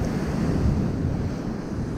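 Loud sea waves wash steadily onto a lonely, little-visited beach, a continuous roaring surf with wind buffeting the microphone and no voices.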